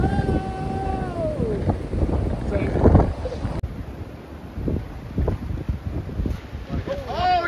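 Wind gusting across a golf course, a steady low rumble and buffeting against the microphone throughout, with people talking over it.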